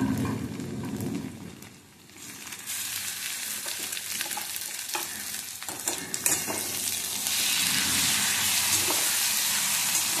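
Poppy seed paste fries with onions in a pan, a steady, close sizzle with scraping stir strokes that briefly dips, then swells into a louder, fuller hiss over the last few seconds.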